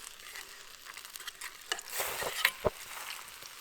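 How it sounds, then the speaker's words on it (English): Leftover meat juices and a stock cube being stirred into gravy in a camp oven: soft, close scraping and bubbling with a few light knocks of the utensil, quiet and with no talk. "I'm just going to stir that in."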